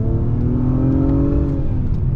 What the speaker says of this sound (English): the engine actually sounds really good. This V6, they did a good job with the exhaust note.